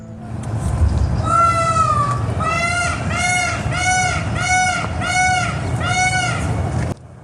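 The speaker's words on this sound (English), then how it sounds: "That sound you heard was a peacock." A peacock on the grounds of Saint George Castle in Lisbon gives loud, wailing calls: a series of about six drawn-out, nasal cries in quick succession, close and clear over low outdoor background rumble.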